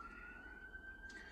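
A faint, distant siren from a passing emergency vehicle wails as a steady high tone over low traffic rumble from a nearby main road.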